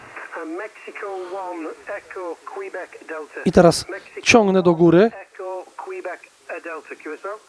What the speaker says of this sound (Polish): posłuchajcie, jak znikł szum, a jak słychać modulację